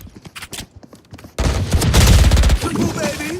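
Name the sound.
Ares machine gun firing in the video game Valorant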